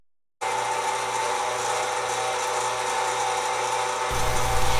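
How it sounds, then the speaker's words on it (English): An electric meat grinder starts up and runs steadily, grinding pork and chuck roast with a loud, even motor whir that holds without pause and shifts slightly in tone near the end. "so now it's time to grind some meat."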